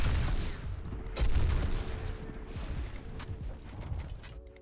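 Gunfire in a competitive Fortnite-style arena build fight, preceded by pickaxe hits on a house wall: several sharp shots over a busy mix of game effects, with a louder burst near the start and scattered reports after.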